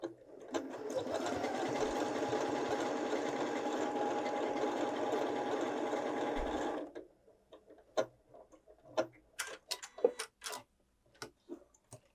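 A Janome 6700P sewing machine stitching a flower pattern runs in a steady rapid whir for about seven seconds, then stops, followed by scattered clicks and taps nearby.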